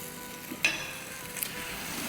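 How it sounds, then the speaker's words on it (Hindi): Potatoes frying with spices in a pan over medium-high heat give a soft, steady sizzle with a couple of brief scrapes or taps, close and quiet, no talk. "तो देखिए कैसे अच्छे से भुन रहे हैं हमारे आलू"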